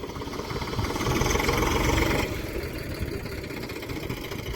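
A farm tractor engine runs at a steady idle close by, a continuous low chugging rumble that drops slightly in loudness midway, with no speech.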